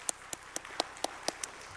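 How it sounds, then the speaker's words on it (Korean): Congregation clapping in thanks during an early-morning Lenten prayer service in a church: a series of about eight crisp, evenly spaced claps in a steady rhythm, fairly quiet against a soft background hum. "늘 주님을 향해서 충성을 다하시는 5354 여전대 위해서 뜨거운 박수로 우리 감사하십시다"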